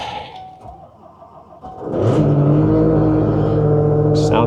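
A 4x4 diesel truck with a camper cranks and fires up after the glow plugs warm on a chilly Canadian winter morning, settling into a loud, steady, slightly rattly idle close by.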